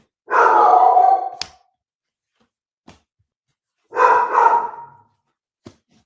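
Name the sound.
dog barking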